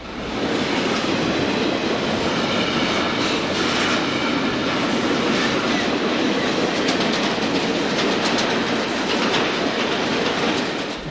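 A long Norfolk Southern double-stack container train rolls past close by, a steady loud rumble of wagons with rhythmic clickety-clack from the wheels and occasional faint squeals, continuous throughout.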